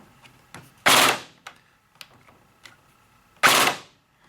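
Airsoft VFC SCAR electric rifle fitted with a burst MOSFET firing two short two-round bursts a few seconds apart, each a loud, close crack, with faint trigger and mechanism clicks in between.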